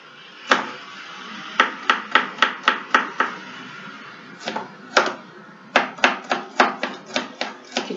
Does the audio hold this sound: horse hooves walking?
no